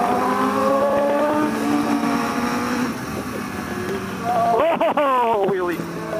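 A motorcycle engine roars loud and close during a wheelie, holding a steady drone that rises and falls in pitch, with wind rush and a rider's voice over it.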